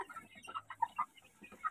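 Black chickens clucking at nightfall in a netted backyard poultry pen, a series of short, close, fairly soft clucks in an irregular rhythm with brief pauses between them.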